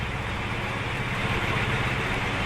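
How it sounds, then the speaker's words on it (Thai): A train engine revs in the Roblox video game, a steady low, rumbling mechanical drone with a slight rise in intensity midway, heard alone without talk. "เหมือนรถไฟเร่งเครื่องนะครับ"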